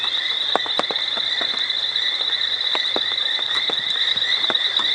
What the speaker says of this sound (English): The painted reed frogs could not be happier.